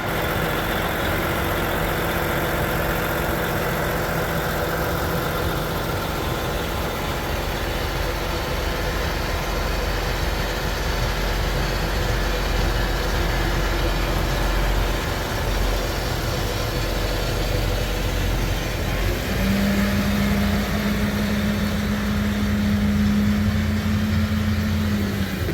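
A Case tractor engine runs at a steady idle for a long stretch, a loud continuous low rumble and drone up close, with a faint rising mechanical whine near the end and no talking.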